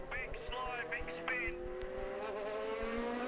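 Highcroft Acura prototype race car idling and revving after a spin at the Long Beach street circuit, its engine a steady droning tone beneath continuous commentary, with faint tire or distant car noise.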